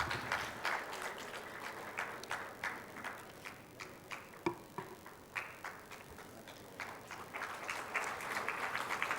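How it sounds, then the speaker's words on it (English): A conference audience at a Symantec closing keynote applauds, with steady, fairly faint clapping from a crowd and individual claps popping out now and then, continuing for several seconds without speech. "let's put our hands together as the gentlemen join us for a photo opportunity"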